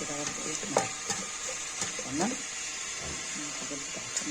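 Stuffed, rubbed chicken sautéed in a pan, with soft sizzling and intermittent stirring scrapes and clanks under a voice talking over the cooking.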